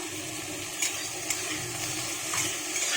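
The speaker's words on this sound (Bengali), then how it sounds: "ভেন্ডিটাকে একটু ভেজে নেব, যাতে একটু সেদ্ধও হয়ে যাবে" Okra frying in a little oil in a kadai gives a soft, steady sizzle with a few faint stirring clicks, close and fairly quiet, with no voices.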